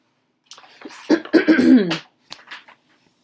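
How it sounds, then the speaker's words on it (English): A few harsh, close coughs burst out in quick succession, followed by a couple of softer throaty sounds and brief silence. "Dropping stuff and coughing the minute the camera starts."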